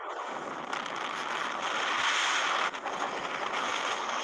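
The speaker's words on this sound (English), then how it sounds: "This is me in the Peak District when it got a bit windy." Strong wind buffets the microphone in a steady, loud roar, with gusts rising and dipping throughout and no voices.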